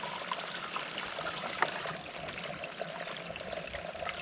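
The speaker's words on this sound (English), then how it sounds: "Now I'm going to fill Sean's water bladder" Spring water runs into a water bladder beside the Appalachian Trail in the Great Smoky Mountains, a continuous close trickling splash with small gurgles and one sharp tap.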